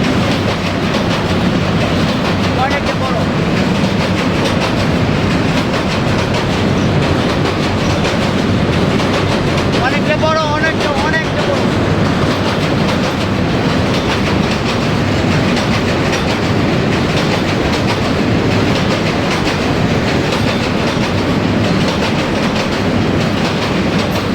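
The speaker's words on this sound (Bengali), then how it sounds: "ওই পাশে দিয়ে একটা ট্রেন এসে পড়েছে" A freight train passes Ghorashal railway station in Bangladesh, a loud, steady rumble of rolling wagons with continuous clickety-clack of wheels over rail joints lasting the whole stretch, heard fairly close with a brief metallic squeal midway.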